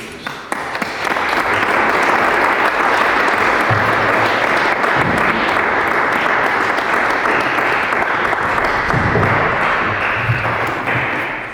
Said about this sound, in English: Je voudrais que dans un dernier élan d'applaudissements, nous disions merci à Monseigneur Fortunatus.